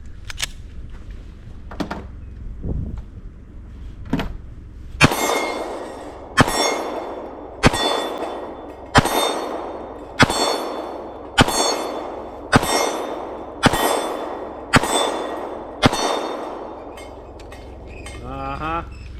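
Rapid series of sharp gunshots each followed by a bright metallic ring from steel targets at a range, evenly spaced about a second apart, a few quieter pings before the main string.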